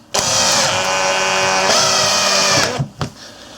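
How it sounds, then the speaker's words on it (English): A power driver whirs loudly and steadily for about two and a half seconds, driving a sturdy screw to fix a splitting machine to a workbench, with a brief pitch dip midway and a couple of clunks as it stops. "using a couple of sturdy screws, we'll screw it to the bench"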